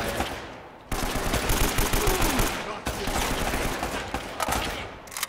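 Enemy gunfire in the action game Uncharted: Drake's Fortune: dense, continuous rattling shots and bursts, loud and close, filling the scene almost without pause, while a voice is faintly present underneath.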